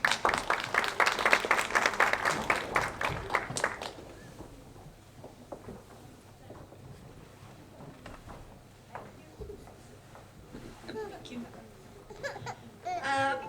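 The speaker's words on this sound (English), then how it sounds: "Can we please get a round of applause?" A round of applause greets an ethnic responsiveness manager taking the stage at a DR Congo independence day celebration, fairly loud for about four seconds before fading into quiet room noise with scattered voices and a child's cries.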